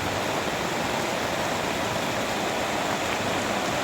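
Rainwater rushes steadily through a freshly dug water channel during rainfall, a constant broadband hiss of flowing water close by with no talking.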